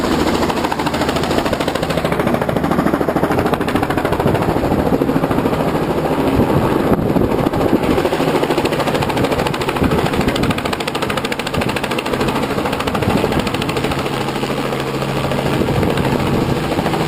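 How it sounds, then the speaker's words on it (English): Strong wind buffets an outdoor microphone, making a loud, continuous roaring rumble for the whole stretch with no voices. "the wind is quite strong, I'm sure you can hear it"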